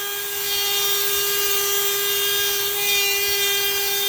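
Dremel rotary tool with a burr grinding into an olive wood pipe, a steady high-pitched whine running continuously at close range with a slight shift in pitch near the end.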